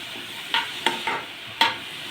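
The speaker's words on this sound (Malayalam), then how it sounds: "ഇനി നമുക്കൊന്ന് വഴറ്റി കൊടുക്കാവേ" Vegetables for an egg curry sauté in a pan with a soft sizzle, broken by three or four sharp stirring scrapes of a spoon, close up and without voices.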